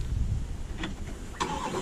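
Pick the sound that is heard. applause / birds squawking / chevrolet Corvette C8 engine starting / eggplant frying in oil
chevrolet Corvette C8 engine starting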